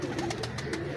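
A pure France-breed pigeon coos up close in a quick series of soft, throaty pulses that fill the brief moment with no talk.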